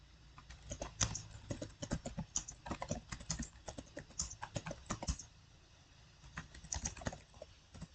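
Fast, close clicks of fingers typing on a computer keyboard, continuous bursts of keystrokes with a brief lull near the end.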